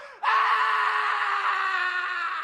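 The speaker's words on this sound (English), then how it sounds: "The man suddenly starts screaming." A man lets out a long, loud, sustained scream of panic that starts abruptly and holds at a steady pitch without a break.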